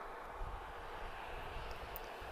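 A Transavia France Boeing 737 arriving from Porto at Madeira Airport, heard as a faint, distant, steady engine rumble with no voices.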